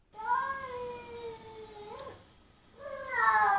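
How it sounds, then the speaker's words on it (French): A female cat in heat yowls in long, wavering drawn-out cries, a brief pause, then another rising wail, loud and close. "je vais vous faire écouter ce que c'est un chat en chaleur"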